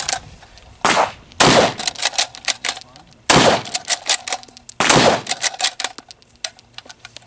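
Mossberg MVP Patrol 5.56 NATO rifle firing outdoors, several loud sharp shots with echoing decays, separated by clattering action and magazine handling noises.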